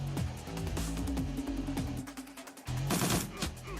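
Gunfire in the video game Shadowrun Returns: a quick run of sharp shots over a droning game soundtrack, a short pause, then another loud burst of fire.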